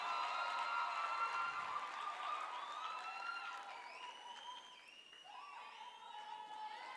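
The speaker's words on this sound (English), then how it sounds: "a big round of applause for our faculty advisors." A crowd at a student enterprise competition final applauds and cheers for faculty advisors, with steady clapping that fades slightly and a few high voices calling out over it.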